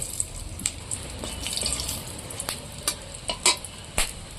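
Dried red chillies, cardamom pods and cloves sizzle in hot oil for a fish curry, a steady crackling fry broken by sharp pops and a few clinks of a spoon stirring the pan.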